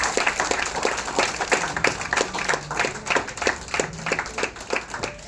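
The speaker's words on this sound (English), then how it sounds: "let's give a big clap for Chaitanya." An audience claps at a tech user group session, a mix of broad applause and a few distinct rhythmic claps standing out near the front, steady and moderately loud throughout.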